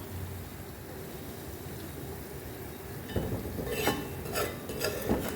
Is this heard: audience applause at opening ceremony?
no